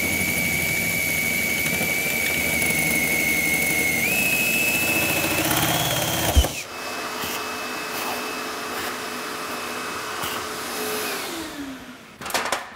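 A powerful vacuum cleaner roars close by with a steady whine while a hole is drilled into a Fiat Ducato motorhome roof, then cuts off abruptly, its pitch winding down in the quieter remainder.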